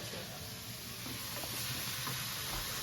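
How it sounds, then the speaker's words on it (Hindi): A pressure cooker in a home kitchen hisses steam in a steady, fairly quiet stream, with faint clinks and rustles of cooking around it. "इस कुकर से आवाज आ रही है।"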